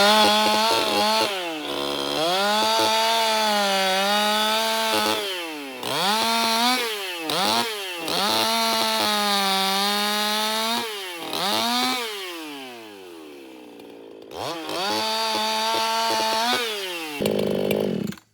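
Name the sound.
chainsaw cutting wood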